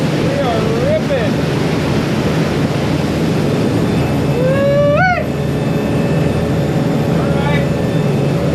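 Twin engines on a 2000 Pursuit 3400 sport fishing boat roar at full throttle near 31 knots on calm water, a loud, steady drone mixed with wind rush while someone talks over it.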